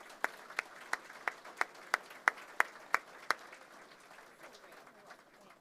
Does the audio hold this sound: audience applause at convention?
yes